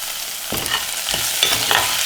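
Turmeric and salt are stirred into a frying onion-and-egg mixture in a pan, giving a steady close sizzle with three distinct scraping strokes of the spoon across the pan.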